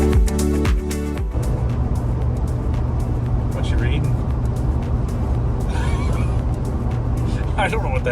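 A car cruising along the I-90 highway, a steady loud road and engine rumble with wind noise throughout, with people talking over it.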